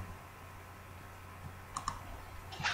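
A computer mouse clicking twice in quick succession during a PHP/MySQL coding session, faint crisp clicks over a low steady room hum, followed by a few more light clicks near the end, with no talking.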